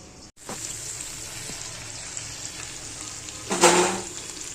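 Capsicum bhaji cooking covered on low gas gives a soft, steady sizzle throughout, with a brief louder hiss near the end.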